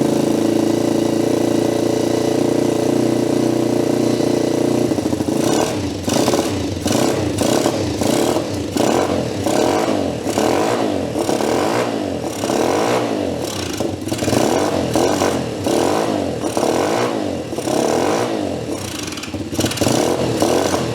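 A 2022 road-legal Thumpstar 125 pit bike engine starts up and idles on half choke, loud and close, with a fast uneven single-cylinder chug. Steady hum comes first, then the idling takes over for the rest.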